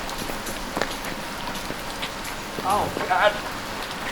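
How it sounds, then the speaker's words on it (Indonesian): Steady rain falls outdoors at night near a swimming pool, a continuous patter on surfaces, with brief voices and a short exclamation over it. "Oh, hujannya tidak terlalu deras ternyata, guys."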